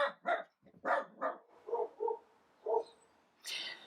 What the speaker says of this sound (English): Doggy interruptions already.